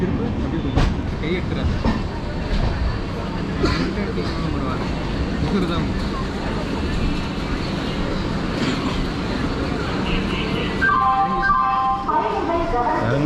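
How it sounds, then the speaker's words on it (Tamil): The Cholan Express train rumbles and clatters into Chengalpattu Junction, wheels rattling over the rails, with people talking nearby and a brief high squeal near the end. "இப்போ ட்ரெயின் உள்ள என்ட்ரா வருது செங்கல்பட்டு ஜங்ஷன்"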